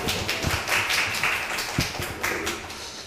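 An audience at a civil-service exam information session claps to welcome a public administration professor, giving scattered, fairly close claps and taps of moderate loudness with no talk over them.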